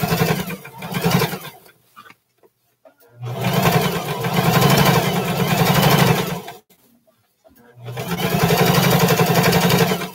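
A sewing machine stitches along the edge of fabric for a pair of short pants, running in three sustained bursts separated by brief pauses, with a faint voice audible near the start.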